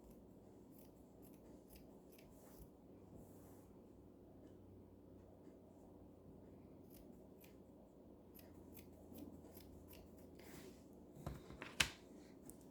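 Scissors snipping through dress fabric while cutting a back piece in two for a long ruffled dress, soft close repeated cuts over a low hum, ending in a few louder sharp snips.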